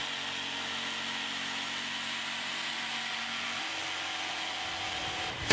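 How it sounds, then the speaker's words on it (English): A Bosch GST 140 jigsaw runs at a steady, moderately loud buzz with a constant tone throughout, ending in a sharp louder burst at the very end; no talking. "The GST 140 is capable of cutting dead straight in a variety of materials, but is equally at ease with curved and circular cuts, internal cutouts"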